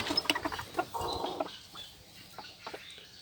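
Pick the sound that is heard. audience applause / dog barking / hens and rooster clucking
hens and rooster clucking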